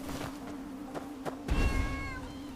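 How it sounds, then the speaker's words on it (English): Cats meow softly and somewhat distantly, with a few faint calls followed by a longer drawn-out meow over a low background hum. "sing along with the cats"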